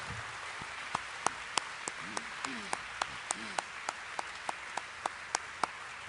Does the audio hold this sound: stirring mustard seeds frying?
no